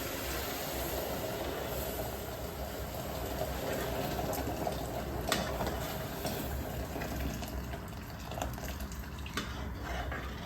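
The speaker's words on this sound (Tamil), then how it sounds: "இதில் 1 கப்புக்கு 4 கப் அளவு தண்ணி சேர்த்துக்கோங்க" Water pours into roasted semolina in a pan while sweet pongal is being made, a steady hissing splash and bubbling that runs continuously at close range with no talk.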